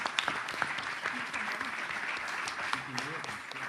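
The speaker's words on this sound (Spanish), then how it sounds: "les pido un aplauso para la organización" Conference audience at the opening of a Latin American thought congress applauds the organizers, a steady wash of clapping from a large crowd lasting a few seconds with a voice speaking over it.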